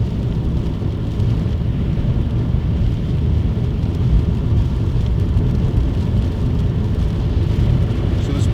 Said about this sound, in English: because the rain beating down on the car